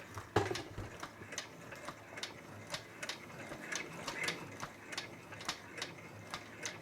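A Brother 10-needle embroidery machine stitching a quilt label, a fast, even ticking and clacking rhythm that runs steadily at a moderate, close level.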